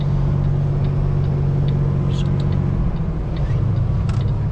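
A semi truck pulls away hauling a trailer loaded with about 44,000 pounds; a deep, steady engine rumble fills the cab, with faint clicks and rattles above it.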